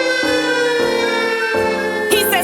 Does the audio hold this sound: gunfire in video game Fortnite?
no